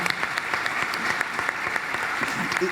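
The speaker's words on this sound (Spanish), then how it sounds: "primero un aplauso para Marisa Virgen." A crowd applauding steadily, dense clapping that fills the whole stretch at a fairly even level.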